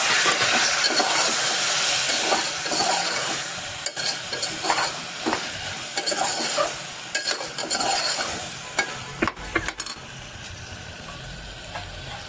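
Soaked, washed rice being stir-fried in a home kitchen pan for a tondli rice dish, with a steady sizzle and scraping, stirring strokes, fairly close and loud, continuing for several seconds.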